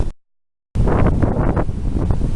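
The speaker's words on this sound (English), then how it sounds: "very windy. Wind is blowing from the south." Strong wind from a tropical storm blows across a beach at Emerald Isle, North Carolina, buffeting the microphone with loud, continuous roaring gusts after a short silent break.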